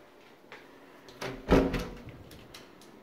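A door inside a two-bedroom pool villa on Samui, connecting to the kitchen, is opened: a soft latch click followed by a brief wooden thud and rattle, quiet against faint room noise.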